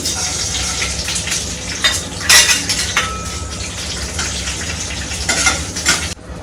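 Lentils stir-fried in a pan with curry leaves for a dosa filling: a continuous sizzle with repeated metal spoon scrapes and clinks against the pan, loud and close, ending abruptly.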